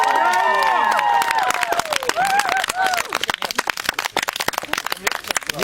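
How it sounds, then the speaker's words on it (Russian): A crowd at a counselors' camp bonfire gathering shouts and whoops loudly, then breaks into a close, lively round of scattered clapping that continues to the end. "и он ждет ваших бурных аплодисментов."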